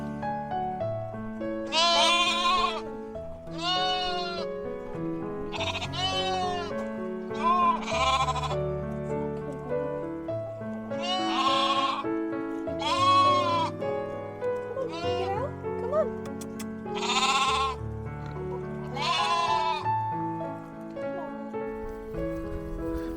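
Sheep bleat repeatedly in a farm pen, several loud, close calls coming in bursts every couple of seconds with overlapping voices from the flock.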